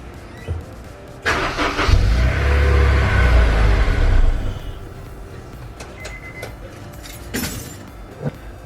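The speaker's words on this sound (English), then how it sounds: "if I start the car," A Honda S2000 sports car engine cranks and fires, then settles into a loud, steady idle for a few seconds before the rumble drops away, leaving quieter background clatter near the microphone.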